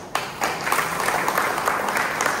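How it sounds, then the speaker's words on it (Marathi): A crowd at a village gram sabha on compensation for fishermen affected by the Karanja–Revas bridge project breaks into clapping, starting abruptly and settling into a steady, dense round of applause. "तुम्ही टाळ्या वाजवल्या ठीक आहे"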